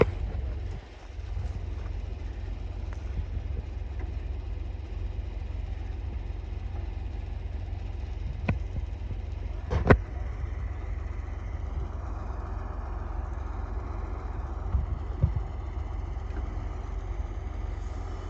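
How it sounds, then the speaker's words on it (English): A John Deere 8870 tractor engine idles steadily with a low, constant rumble, a 1995 model being prepared to pull a grain drill, plus a couple of faint clicks and knocks. "Our tractor is a John Deere 8870."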